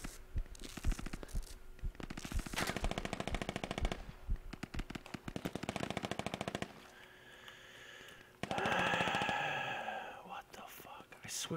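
Rapid bursts of automatic gunfire rattle through a military shooter game, with stretches of sustained firing and quieter moments between, while someone talks under his breath.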